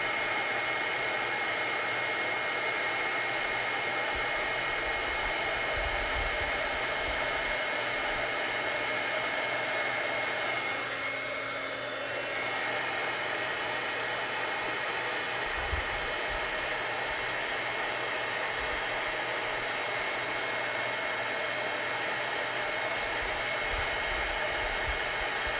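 An embossing heat tool blows a loud, steady, airy roar from start to finish. There is only a slight shift in tone partway through, and no one speaks.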